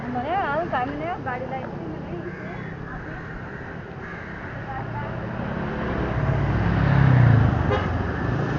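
Road traffic at Aarey Milk Colony, Mumbai, with car horns tooting over steady engine noise, people talking nearby, and a crow cawing briefly near the start.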